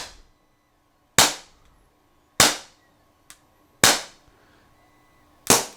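An LTL Bravo 1.5 less-lethal launcher fires at a target, giving four sharp, loud pops spaced about a second apart, plus a much fainter click between them, with no talk.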